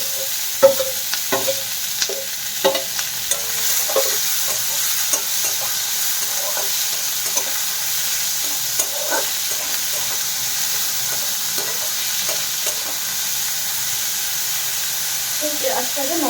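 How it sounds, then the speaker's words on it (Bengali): Chopped onions fry in a pan for soybean pulao, a continuous bright sizzle with irregular spoon taps and scrapes scattered throughout, close up and steady for a long stretch without talk. "পেঁয়াজটাকে নরম করে ভেজে নেব"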